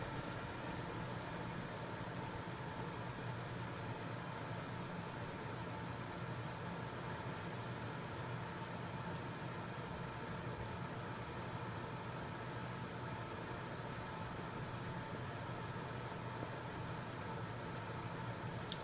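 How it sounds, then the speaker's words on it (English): A train rolls past in Borderlands 2, in the Raid on Digistruct Peak DLC, as a steady, faint rumble that holds evenly for the whole stretch without rising or fading, with no talking. "Oh, there's a train."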